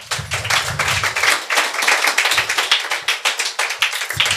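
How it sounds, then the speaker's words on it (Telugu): Church congregation clapping in unison, a loud, close, brisk train of sharp claps at a quick steady beat that continues without talk over it. "చప్పట్లు కొడతారా?"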